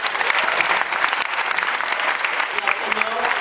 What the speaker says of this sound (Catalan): La senyoreta Dolors, de TV3, un fort aplaudiment per ella